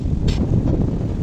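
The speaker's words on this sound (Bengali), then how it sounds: "বাতাসটা কিছু সময় কম হচ্ছে, মাঝে মাঝে অনেক জোরে আঘাত হানছে।" Strong wind from Cyclone Remal blows hard in Narayanganj during steady rain, producing a low, buffeting roar with gusty swells across the short stretch.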